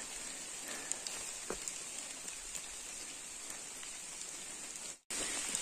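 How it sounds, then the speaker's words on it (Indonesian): Heavy rain falls steadily on a mountain forest hiking trail in Indonesia, a dense, even hiss of drops with a few louder close patters and a brief cut near the end. "Ini masih hujan ini"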